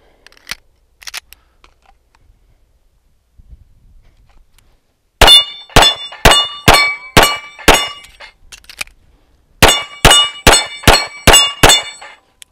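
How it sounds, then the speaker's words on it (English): Pistol shots strike steel Action Target dueling tree plates in two quick strings of about six rapid, ringing clangs each, loud and close, after a near-silent pause with faint handling noises. "So you're going to have to shoot it and turn it all the way across."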